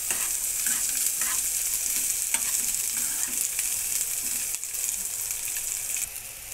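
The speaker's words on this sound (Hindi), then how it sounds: "थोड़ी सी प्याज होने देते हैं, फिर इसमें हम दूसरे मसाले भी डालेंगे।" Onions for butter chicken frying in a pan as a spoon stirs them, a steady close sizzle with faint scraping strokes running throughout, no talking.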